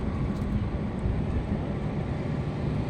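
A train passes near the Kolaghat bridge over the Rupnarayan river, giving a loud, steady, low rumble that fills the short stretch without pause or talking.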